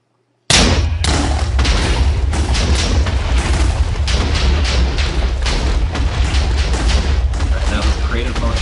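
A Minecraft explosion erupts as a sudden loud boom and collapses into a sustained, dense roar of rumbling blasts and crumbling debris that keeps going without a break.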